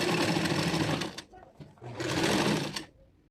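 Sewing machine backstitching the seam of a children's dress with shirred elastic at the back, running in two loud, steady bursts separated by a brief pause.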